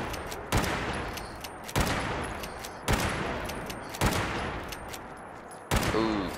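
Five loud, sharp lever-action rifle shots at a quadrupled fire rate ring out in Fallout 76, evenly spaced about a second apart, each with a booming crack and a short decaying tail.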